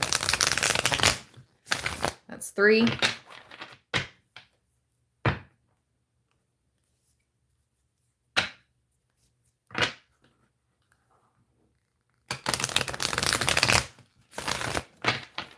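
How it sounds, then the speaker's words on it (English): A deck of playing cards being shuffled by hand, several riffle bursts separated by quiet pauses, close and crisp, with a brief spoken count between shuffles. "I'm going to completely randomize this deck by shuffling 7 times."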